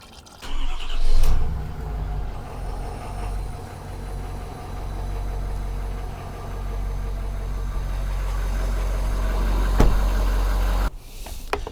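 A Ford 6.7 Powerstroke diesel truck engine runs steadily at a loud, close idle after starting, a continuous low rumble that holds for about ten seconds before cutting off.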